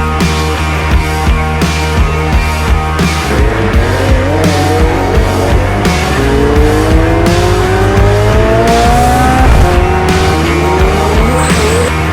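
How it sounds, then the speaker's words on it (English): A McLaren 720S Spider with a mid-mounted 4-liter twin-turbo V8 accelerates hard, its loud engine note climbing steadily through the gears with brief shift breaks and some tire noise, close up and continuous with no talking. "We have a 4-liter engine, V8, twin turbo, mid-engine, rear-wheel drive."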